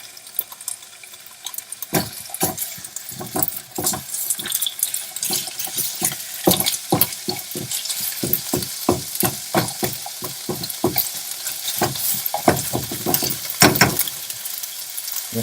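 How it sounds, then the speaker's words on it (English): Stew meat, about a pound, sizzling and browning in hot oil in a pan for pressure cooker beef stew, with steady crackling spatter and frequent clattering stirs close up. "we've got our pan heating up with some oil in it. We're going to throw in about a pound of stew meat."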